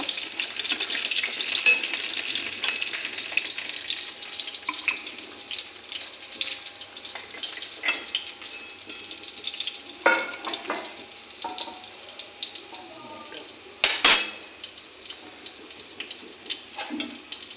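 Cabbage and egg pakoras frying in oil on a low gas flame, a soft steady sizzle with scattered clinks and scrapes and a brief louder clatter near the end.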